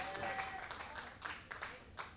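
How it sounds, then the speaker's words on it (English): A church congregation claps hands in praise during a Sunday service, a quiet, uneven patter of claps with a faint sustained tone running under it. "give the Lord a big old hand clap of praise"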